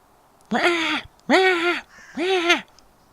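A crow gives three loud, harsh caws in a steady rhythm, each about half a second long with brief pauses between them, heard close and clear outdoors.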